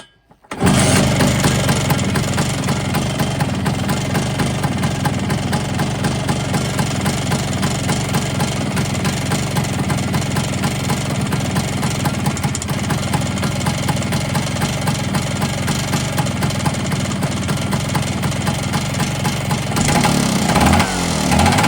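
A motorcycle engine that had seized runs roughly after a start, a loud close continuous rattling drone with knocking from the cylinder, held steady at a fast idle for about twenty seconds with no talk.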